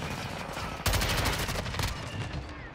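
Automatic gunfire rattles in Call of Duty Modern Warfare 2 on the Shipment map, a sudden loud burst of rapid shots lasting about a second over background battle noise.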